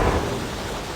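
Thunder and steady rain at night in the video game Jurassic Clash, a low rolling rumble under a continuous hiss of rainfall, fairly loud and unbroken with no voices.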